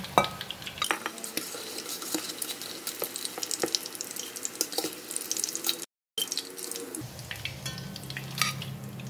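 Fried eggs being fished out of hot oil with a metal utensil: steady sizzling frying oil with scattered clinks and scrapes against the pan, a brief dropout, then a louder bubbling hiss.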